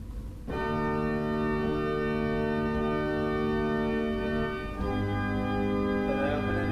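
A J.J. Binns pipe organ holds a full, sustained chord from the swell division with the swell box shut, giving a steady, muffled tone; the chord shifts once near the end.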